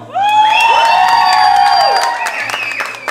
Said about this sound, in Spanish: A ver, grito y apoyo de este lado.